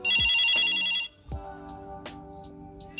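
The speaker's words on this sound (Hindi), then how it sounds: "रिंगटोन इसकी बाय डिफॉल्ट यही है जो आप यहाँ पे सुन रहे हैं" The default ringtone of a Jio Fiber landline phone plays clearly up close: a bright electronic melody of sustained tonal notes, with a short gap before the pattern resumes.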